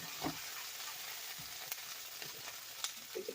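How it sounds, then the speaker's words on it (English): Onions sizzle and fry in a pan with a steady hiss, broken by a few soft stirring scrapes, close and alone. "our onions are sauteing beautifully"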